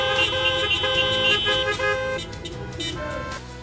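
Car horns honk in a dense overlapping chorus, several sustained blasts layered over one another at close range amid general commotion, loud throughout.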